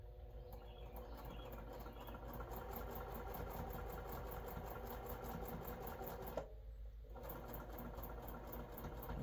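A sewing machine stitches a quilt block, run slowly across the seams. Its rapid, even mechanical whirr continues steadily nearby, with one brief pause partway through.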